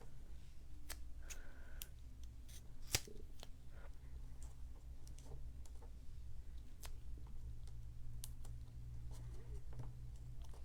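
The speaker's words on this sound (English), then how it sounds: "I'm going to cut down the rest of my little foam squares so they fit." Scissors snipping small craft foam squares, a series of quiet, close, crisp cuts at an irregular pace over a low steady background hum.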